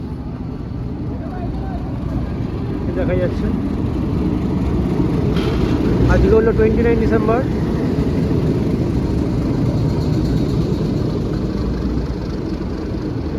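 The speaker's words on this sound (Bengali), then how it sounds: "হাওড়া স্টেশনে 52 নম্বর প্ল্যাটফর্মে আজকে ঢুকছে ট্রেন।" A steady low rumble of the Vibhuti Express with new LHB coaches rolling into platform 52 at Howrah station, with faint squeals and a brief horn-like tone, while a person talks over it.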